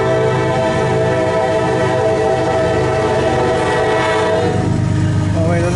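A CSX intermodal freight train passes close by with its horn blaring in long sustained blasts over the loud rumble and clatter of the rail cars, continuous and very loud throughout.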